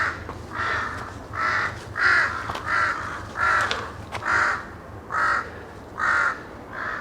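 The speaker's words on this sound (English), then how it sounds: "these crows, I think they're following me" Crows cawing in a forest park, a series of loud harsh caws repeating in steady rhythmic bursts about every half second to second, fairly close, with no talk.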